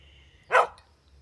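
One short, loud bark from a big dog somewhere along a roadside in rural Thailand, heard alone over a faint steady background hum.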